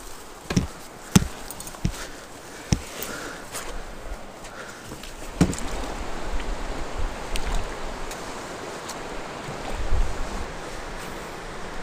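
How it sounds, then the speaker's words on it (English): A boat is pushed off into a Nova Scotia backcountry river, with sharp knocks and thumps of the hull early on, followed by lapping, sloshing water that continues at moderate level. "I'm gonna push the boat off and get some casts in"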